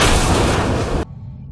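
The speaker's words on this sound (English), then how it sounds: "One bombardment and there they go." Mass Effect Andromeda bombardment explosion: a loud, dense broadband roar of blast and debris that holds for about a second, then cuts off abruptly into a low, faint rumble.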